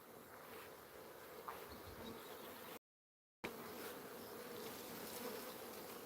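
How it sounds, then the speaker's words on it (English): Honeybees from a strong colony buzzing steadily in a forest garden on a cloudy early-summer afternoon, a dense continuous drone with no talk and a brief dropout midway. "the bees have just come out"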